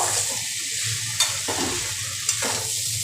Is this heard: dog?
no